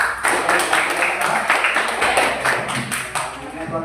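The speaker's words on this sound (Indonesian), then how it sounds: "Kita berikan aplaus untuk kelompok 3" Clapping from the audience for group 3 at a classroom presentation: a short burst of brisk, close handclaps lasting a few seconds, with voices underneath.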